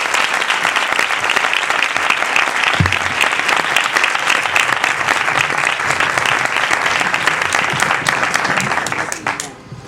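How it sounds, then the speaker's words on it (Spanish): Warm, steady applause from an audience at a talk, dense and close, filling the whole stretch before fading out at the very end. "Démosle un cálido aplauso a toda una lección de vida."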